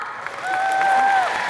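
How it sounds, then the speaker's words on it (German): Audience applause at the world premiere of the second season of Maxton Hall, a steady wash of clapping building up after a brief pause and holding for about a second, with a tonal sweep running over it. "Applaus für Emma."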